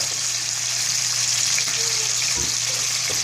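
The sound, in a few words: lemon juice squeezed into a pan of garlic shrimp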